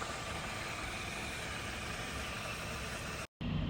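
A 2008 VW Golf Plus 1.4 TSI automatic idles with a steady, low engine hum that runs without a break, near and even, with a brief dropout of silence near the end.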